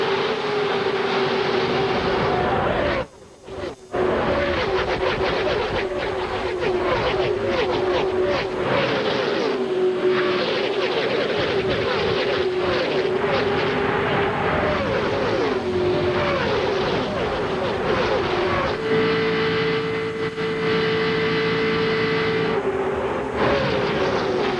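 NASCAR Winston Cup stock cars race at the 2001 Daytona 500. A loud, sustained engine roar shifts in pitch and intensity, with one brief dip early on, and nothing else is heard over it.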